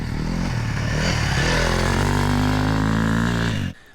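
An electric dirt bike rides on a motocross track, with a loud, close, continuous whine from the motor rising in pitch amid rough mechanical clatter and wind, then cutting off abruptly at the end.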